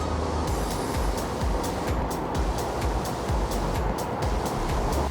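A Sealdah–Bongaon AC local train rolls steadily on its tracks as it nears Bongaon Junction, a continuous rumble with rhythmic rail clacks heard from inside the carriage, with no talking.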